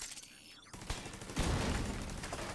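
A thrown bomb detonates in The Division 2 video game: a quieter lead-in, then a sharp blast, and a second heavier burst with a long rumbling tail.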